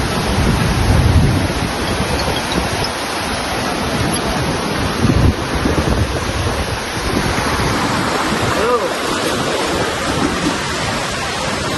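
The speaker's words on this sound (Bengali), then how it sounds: "ঢেউগুলো কেমন আসছে খালি" Ocean waves break on a beach in a loud, continuous roar of churning surf. The wash swells and ebbs over several seconds, dominating the scene with no voices.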